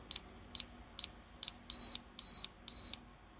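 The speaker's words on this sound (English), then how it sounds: "You see a beep" The electronic keypad lock of a Bighorn gun safe gives four short sharp beeps, then three longer tones, close and clear in a quiet room.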